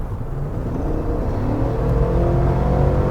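A Chevrolet Tahoe Z71's 5.3-liter Ecotec V8 revs with a deep, steady, close rumble that swells slightly toward the end.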